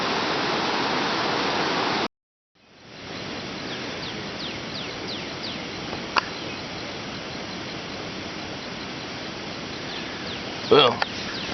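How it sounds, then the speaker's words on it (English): A river running high after rising water, heard as a steady, full-band rush of flowing water close by, continuous throughout apart from a brief dropout near the start, with faint birds or insects and a short knock late on. "The river's up pretty high right now."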